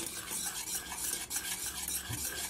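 Semolina and milk sweet being stirred steadily in a pan, a continuous close scraping and swishing with faint utensil clinks and no voices.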